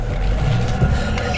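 A Ford Mustang Cobra with 11k miles, once submerged in salt water, runs just after start-up in first gear, a steady, close low rumble at even volume.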